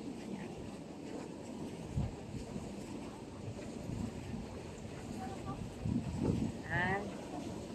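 Wind gusts across the microphone at a windmill farm in Quezon, a low rumbling buffet with swelling bursts, while a voice speaks faintly underneath.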